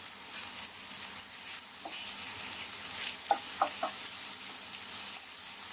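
Cumin seeds and sliced onions fry in hot oil, a steady loud hiss with a few faint pops and crackles near the middle.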